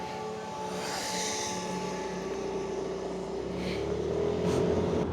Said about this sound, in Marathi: भरपूर कार जात आहेत मागून